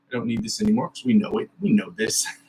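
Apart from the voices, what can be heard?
No everyday noises stand out.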